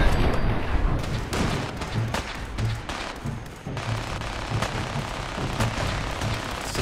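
In the video game Fallout 4, gunfire rings out as a rapid, regular string of loud shots, steadily repeating with a brief lull midway before the firing resumes.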